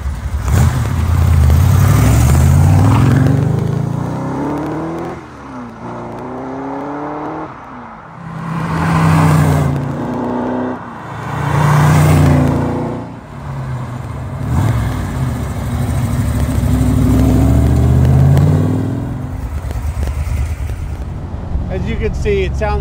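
A 1965 AC Cobra Mk III replica by Superformance runs loud and close, its engine rising and falling through several revs, with people talking over parts of it.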